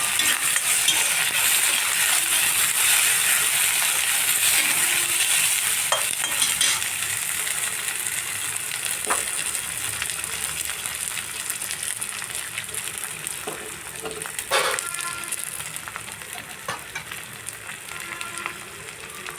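Cumin seeds and curry leaves hit hot oil with fried onions, making a dense, close sizzle that holds steady. Occasional spoon scrapes and clinks sound against the pan, and there is no talk.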